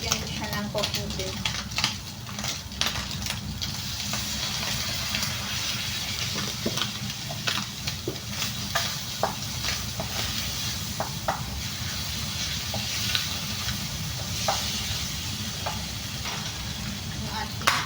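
Cooking oil hisses in a pan while lobster and crab are cooked, a soft continuous sizzle broken by frequent clicks and scrapes of stirring at close range.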